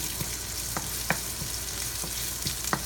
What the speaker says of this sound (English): next we're going to put the onions